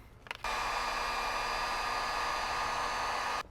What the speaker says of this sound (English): we get out our favorite device, which is our Harbor Freight heat gun.